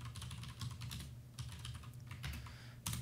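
Typing on a computer keyboard, a close, quiet run of key clicks in irregular bursts with short pauses over a low steady hum.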